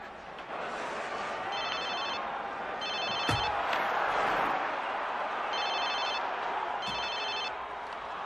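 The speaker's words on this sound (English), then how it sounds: "Listen, George, do you mind if I make a quick phone call?" A telephone rings in four evenly spaced double-burst trills over a constant noisy background with faint crowd murmur.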